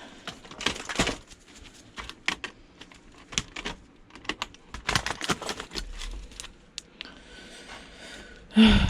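The push buttons on an unbranded VCR being scrapped for e-waste are pressed over and over. Sharp plastic clicks come in irregular bursts, close and fairly loud, and a final clatter ends the clip.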